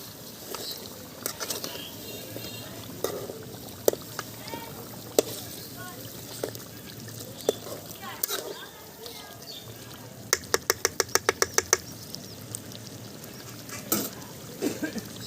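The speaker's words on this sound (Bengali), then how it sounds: "চিকেন থেকে খুব সুন্দর তেল ছেড়ে দিয়েছে, আমি আরও একবার নেড়ে দিচ্ছি।" Chicken frying in the oil it has released is stirred with a utensil, giving scattered clicks and a quick burst of scraping taps against the pan, under a speaking voice.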